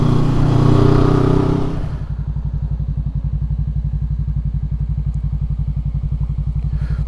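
A Venturi 500 motorcycle climbing a steep uphill road in Malico, San Nicolas, Pangasinan. A loud rush of wind and engine gives way to a steady, rapid, throbbing low engine pulse heard up close.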